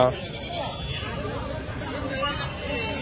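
Goats bleat at a female goat market, mixed with crowd babble and close conversation that runs across the clip.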